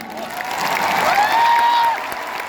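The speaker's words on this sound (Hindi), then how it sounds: "एक बार ताली बजा के आशीर्वाद दीजिए।" An audience at a stage show applauds in a swelling wash of clapping that peaks and then eases, with a thin whistling tone riding over the crowd noise.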